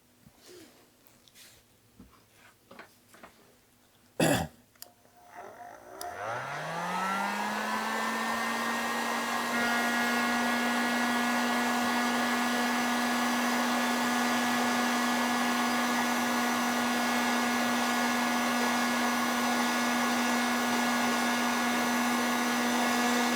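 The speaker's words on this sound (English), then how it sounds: "So now I'm going to get my heat gun and very gently melt the whole thing." Heat gun melting a solder ring onto copper wire for motorcycle wiring on a Honda CB250RS; after a few clicks and handling noises it starts up with a rising whine, then blows a loud steady whirring hiss without pause.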